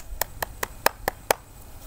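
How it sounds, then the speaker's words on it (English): Six or so crisp hand claps at a school assembly, evenly spaced and fairly close, sounding like one or a few people clapping over a quiet room rather than a full crowd. "Let's give them a clap."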